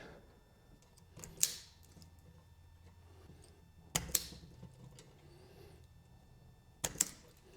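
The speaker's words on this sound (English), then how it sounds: "we're just going to take the insulation off of the hot and neutral wire" A wire stripper removes insulation from the hot and neutral wires for an electrical outlet in a workshop. Three sharp, close snaps ring out a few seconds apart over quiet room tone.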